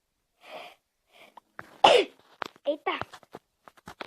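A single sharp sneeze bursts out between scattered bits of Minecraft game audio and a few soft vocal sounds, close and fairly loud.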